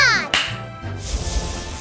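A single sharp hand clap, as everyone claps once together, cutting in briefly between animated children's voices.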